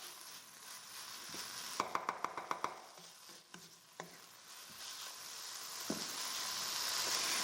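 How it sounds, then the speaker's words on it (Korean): Meat sizzles and stir-fries in a pan while making gochujang, a soft hiss under quick spatula scrapes and taps, quiet and close. "어느 정도 수분이 날아갔으면 고기를 넣고 볶아주세요."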